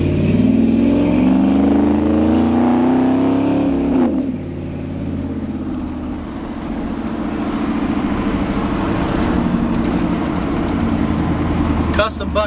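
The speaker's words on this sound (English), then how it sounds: "So what we got going on here in this truck is a Vortec 350," A 1978 Chevy short-bed pickup with a Vortec 350 V8 and Turbo 350 transmission accelerates, its engine note rising loudly before settling into a steady cruising rumble, with a voice talking over it.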